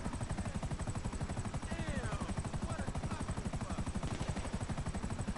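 A helicopter flies in GTA 5 Online, its rotor producing a rapid, even thudding pulse throughout, loud and close, with faint speech-like sounds above it.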